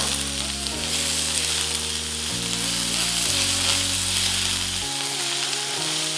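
Finely chopped onion fries in hot oil with cinnamon stick and star anise for a masala eggplant curry, a steady close sizzle running throughout beneath background music.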